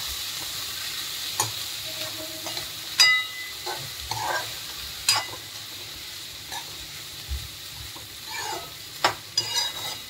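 Cowpeas (chavli) tossed into a hot pan for a Marathi-style bhaji, sizzling steadily while a spoon scrapes and clinks against the pan in scattered strokes, close and clear with no talking.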